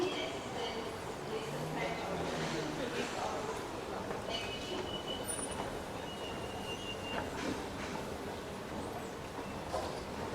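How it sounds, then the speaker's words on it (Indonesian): An MRT train at Bandar Tasik Selatan station in Kuala Lumpur gives a steady rumble with faint wheel squeals and station ambience throughout, at a moderate distance, while people talk in the background. "begini suasana stasiun MRT Bandar Tasik Selatan"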